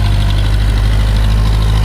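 A Digitrac tractor engine idles loud and close, with a deep, steady throbbing rumble and no breaks.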